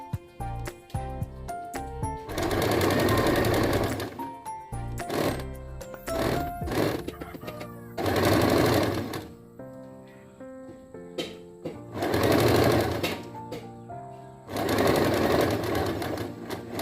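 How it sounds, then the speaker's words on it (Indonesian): An electric sewing machine stitching fabric in repeated runs of a few seconds each, a loud steady whir separated by pauses with handling clicks and soft background music. "sekarang tinggal kita jahit saja"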